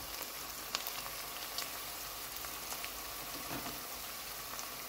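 Garlic sizzles in a hot pan during the cooking of a Basra-style shrimp matbook, a steady broadband hiss and crackle with scattered small pops, close and continuous with no talk.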